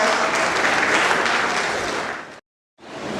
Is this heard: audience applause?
yes